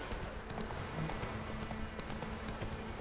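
Roach, the horse in The Witcher 3, gallops with a steady run of hoof clip-clops. The hooves sound moderately close under a dense, noisy game ambience, with no voices.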